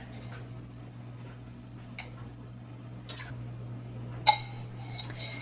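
A utensil stirs drained baked beans and sauce in an Instant Pot, giving a few sparse clinks and scrapes against the metal pot, ending in a sharper ringing clank, over a steady low hum.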